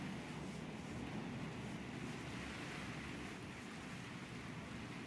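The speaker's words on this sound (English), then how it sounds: "Gosh, can you hear that wind?" Strong wind blowing outdoors during a storm, a steady broadband roar with low gusty rumble that stays constant and loud for the whole stretch, with no voices.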